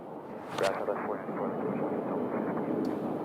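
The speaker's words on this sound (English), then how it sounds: "We also have a United taxiing past us here, going to 25 right." A United airliner taxis past toward runway 25 right, its engine rumble a low, steady roar at moderate distance, partly under a voice talking over it.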